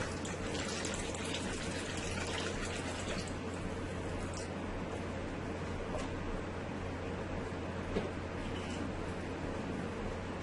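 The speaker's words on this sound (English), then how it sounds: "I am going to add my beef broth, which is about 2 cups." About two cups of beef broth pour into a pot of rice for a Caribbean pigeon peas cook-up. A continuous soft gushing stream runs steadily for about ten seconds at a modest, even level.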